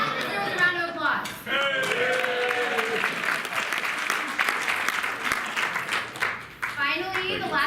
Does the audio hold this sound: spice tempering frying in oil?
no